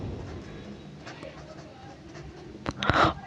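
A pen writing on an exam answer sheet, faint scratchy strokes under a person talking, with a louder rustle or scribble near the end.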